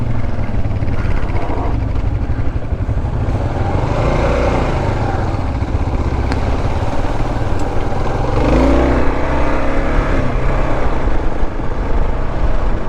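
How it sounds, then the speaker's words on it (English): A Kawasaki KLR 650 single-cylinder dual sport motorcycle runs steadily and close by for the whole stretch, a dense continuous engine drone with a slight swell in revs partway through, with no talking over it. "Something about a single cylinder engine in general, but the KLR sounds great."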